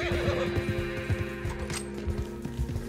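A horse whinnies loudly in a western-style video game, its neigh rising over steady clip-clopping hooves and a low droning background, with no voices.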